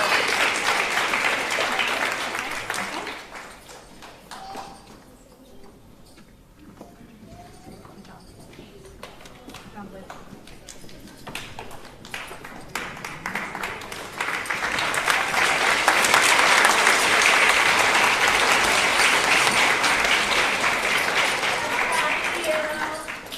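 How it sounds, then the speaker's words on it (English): Audience applause at an elementary school 5th grade promotion ceremony for award winners, a broad sustained clapping that thins briefly mid-way and then swells louder again, with talking mixed in. "another round of applause for these Silver Achievement Award winners"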